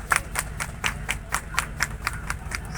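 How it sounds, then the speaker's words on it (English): Steady rhythmic hand clapping from a gathered crowd at a 10K cancer awareness run event, about ten even claps spaced evenly, close and moderately loud over a faint low background hum. "Please give a big round of applause."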